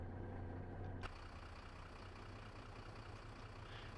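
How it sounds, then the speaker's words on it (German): A city bus engine in the OMSI 2 simulator cranks with a sharp click and catches, then settles into a low, steady diesel idle that runs on evenly and quietly. "Starten wir mal Motor. Oh, das klingt schon geil, ne?"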